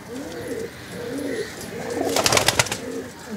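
Pigeons in a loft coo in soft, repeated rolling calls, close by, with a brief burst of fluttering noise near the end.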